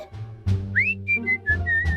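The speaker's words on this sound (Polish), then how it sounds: "O, gwizdanie na ekranie i mamy klucze." Short, bright whistled notes rise and hold in a Prison Escape mobile video game, a few distinct chirps over a low musical backing, with no talking.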